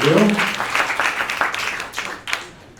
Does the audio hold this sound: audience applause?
yes